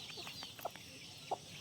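A rooster and hens with a brood of tame chicks cluck softly at a distance over a quiet background, with two short, sharper clucks standing out.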